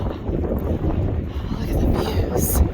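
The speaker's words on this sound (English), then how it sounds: "it is windy up here" Gusty wind buffets the microphone on an open, rocky mountain summit in the Grayson Highlands along the Appalachian Trail, a steady close roar with swells that rise toward the end.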